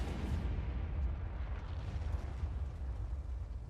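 Artillery fire in an anime battle against a kaiju, a loud sustained rumbling roar of heavy blasts filling the whole moment with deep booming energy and no voices.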